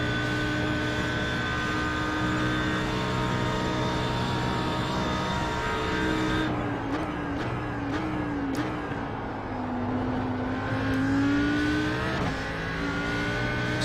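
An Audi R8 GT3 engine in a racing video game at Bathurst drones with a strong harmonic tone, its pitch dipping and rising as the car brakes and pulls away again, with no talking over it.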